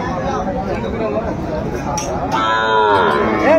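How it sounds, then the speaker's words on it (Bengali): Cows and calves at a cattle market, a loud, drawn-out moo rising near the end amid market chatter and people talking nearby. "সুন্দর গাভী বাছুর আমরা দেখছিলাম এখানে"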